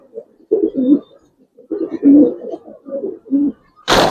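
Giribaj pigeons of the Palla line coo inside a loft, a series of close, low throaty phrases with short pauses, ending in a sudden loud broadband burst.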